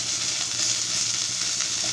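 Mint leaves fry in a hot pan, giving off a steady, close, even sizzle that continues for the whole stretch with no talking.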